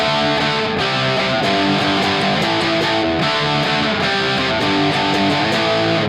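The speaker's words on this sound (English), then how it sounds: "this is where we get into a heavier Marshall tone" Heavily distorted electric guitar chugs and rings through a loud, saturated Marshall amplifier in a dense, continuous wall of sound.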